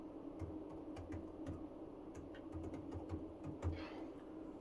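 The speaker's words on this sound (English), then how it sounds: "I am typing down the entire email address again." Keys clack on a computer keyboard while an email address is entered into an online registration form, a quiet, irregular run of light taps over a low steady room hum, with no voices.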